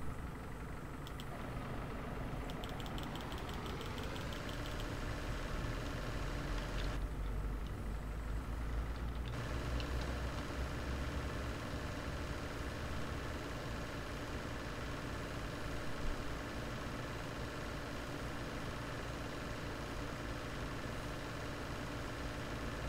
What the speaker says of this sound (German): Denk dran, der Motor muss laufen,